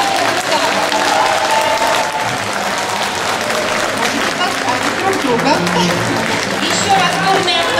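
A crowd at a traditional Zaonezhye-style Russian wedding applauds the newly registered couple, steady dense clapping throughout with a few voices and cheers mixed in.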